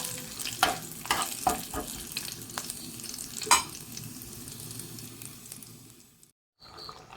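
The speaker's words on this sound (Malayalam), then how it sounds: "നന്നായിട്ട് മൂപ്പിച്ചതിന് ശേഷം നമുക്ക് കറിയിലേക്ക് ഒഴിച്ചു കൊടുക്കാം." Hot tempering sizzles and frying crackles as it is poured into a dried gooseberry fish curry, with a few sharp spits over a steady fizz before it cuts off abruptly near the end.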